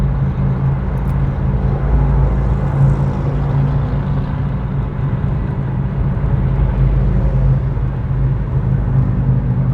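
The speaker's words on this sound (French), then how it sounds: "il y a toute une bande de motards qui sont en train de me doubler" Harley-Davidson motorcycles in a group overtake on the road, a loud steady low engine rumble filling the whole stretch with no voices over it.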